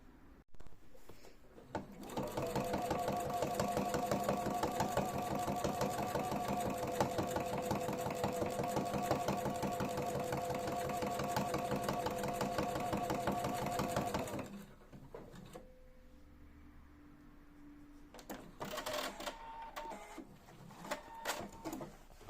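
A sewing machine topstitches a trouser fly 1–2 mm from the edge, running in one steady, rapid, near stitching burst of about twelve seconds, then stopping for brief handling clatter.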